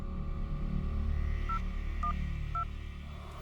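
On a TV crime drama, a phone number is keyed on a keypad: three short, clear dialing beeps spaced about half a second apart over a low background hum.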